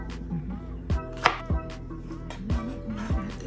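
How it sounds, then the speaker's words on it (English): A knife chops mangoes on a cutting board in about six sharp knocks at an uneven pace, close by, over a faint background hum. "we're chopping up our mangoes"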